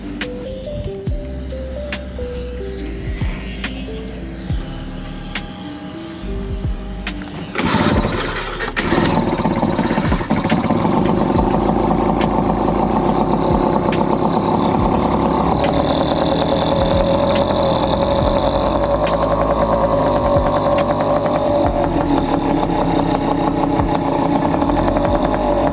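A Tohatsu 3.5 dinghy outboard motor with a freshly cleaned carburetor fires up partway through and keeps running at a steady, close, moderately loud idle until the end.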